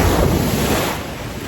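Ocean waves on a Zanzibar beach wash and roar loudly nearby, mixed with heavy wind buffeting the microphone, gradually easing toward the end.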